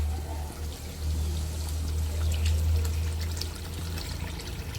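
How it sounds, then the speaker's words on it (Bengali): Water is poured into a cooking pot over potatoes already fried with spices, a steady close pour that runs for several seconds with a continuous rushing flow and no speech. "আলুর সাথে মশলাগুলো কষানো হয়ে গিয়েছে এখন দিয়ে দেবো জল"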